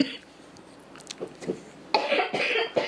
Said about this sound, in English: This podcast is brought to you by coughing.